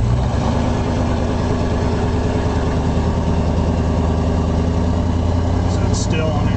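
The completely stock 302 engine of a 1968 Ford Galaxie 500 runs with a steady, loud, low rumble and even vibration from start to finish.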